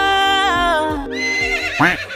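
A horse gives a loud, close whinny that rises and wavers, then breaks into a second shrill burst near the end, with soft thumps underneath.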